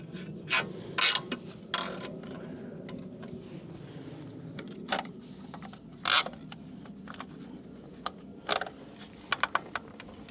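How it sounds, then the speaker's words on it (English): A ratchet strap on an e-bike rack clicks in quick bursts as the wheel holders are cinched down, sharp close clacks separated by pauses over a low background hum. "Be sure to tighten down the nut on the frame holder and cinch down both your wheels."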